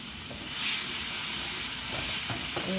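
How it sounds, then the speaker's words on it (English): Spices being stirred into a Creole sauce with onions and tomatoes for New Orleans red beans, giving a steady soft hiss and faint sizzle in the pot, with light clinks of the spoon near the end. "So I'm going to add that. And just stir it around."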